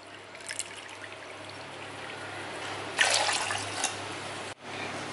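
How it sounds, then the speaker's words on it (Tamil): Water is poured into a pressure cooker holding basmati rice for lemon rice, a steady close splashing trickle that swells midway and briefly breaks off near the end. "இப்போ தண்ணி சேர்த்துக்கலாம்."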